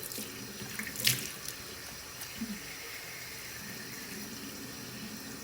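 Water runs from a tap in a quiet steady stream, with a brief clink of an object early on and faint handling noises over the continuous flow.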